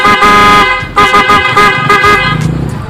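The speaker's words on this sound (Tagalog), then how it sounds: "malakas po yung busina" A loud, close Kawasaki Barako motorcycle horn honks repeatedly in short blasts, a harsh buzzing tone with the engine running underneath.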